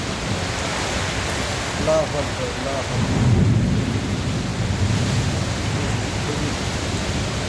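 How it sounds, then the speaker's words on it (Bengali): Heavy rain pours steadily outdoors at an open market during a violent nor'wester storm, a dense wash of noise with a low thunderous rumble swelling near the middle. "এখন তুফান বইতেছে, ঝড় বৃষ্টি,"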